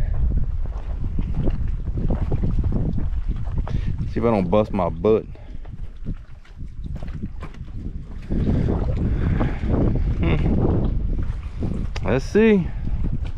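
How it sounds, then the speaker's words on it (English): Heavy wind roars and buffets the microphone throughout in a South Louisiana marsh, rumbling low and loud, while someone talks briefly over it. "It's freaking windy, I can tell you that."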